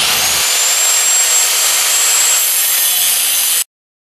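Loud, steady hiss and crackle of welding on the cross braces of a hydraulic tube bender stand, continuous and close for a few seconds before cutting off abruptly into silence.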